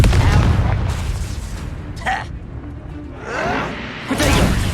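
A Confringo fire spell blasts in Hogwarts Legacy combat, loud booming explosive bursts with whooshes layered over dense continuous battle noise, with a short shouted voice.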